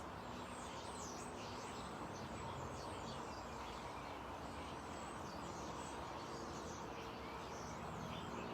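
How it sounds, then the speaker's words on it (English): Birds chirp and sing in the background outdoors, a steady mix of calls over a faint continuous hiss of ambience. "The sounds of the birds singing close to the video."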